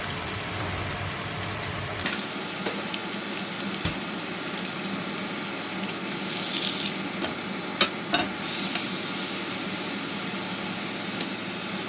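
Steak searing in a smoking-hot oiled pan in a teaching kitchen, a steady close sizzle and crackle throughout with a vent fan humming underneath and a few sharp pops.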